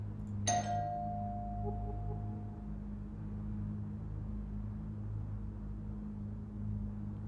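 A single doorbell chime sounds once near the start, a bright two-tone ding that rings out and fades over a couple of seconds against a steady low hum of background noise.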